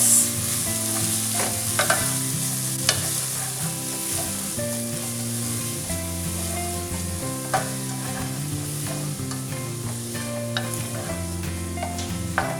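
Onions fry in a pan with a constant close sizzle while a utensil stirs them, scraping and clinking against the pan in scattered taps throughout, for a butter chicken curry base.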